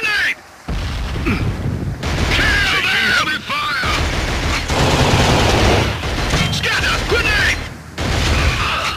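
Heavy gunfire in Killzone crackles and booms nearly nonstop, with dense bursts, explosions and clanking mechanisms, while voices shout throughout.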